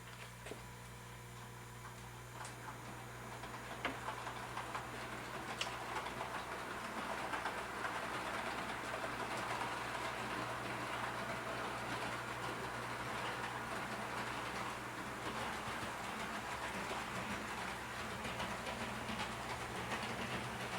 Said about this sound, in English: I'm going to start this up with one train and run it through.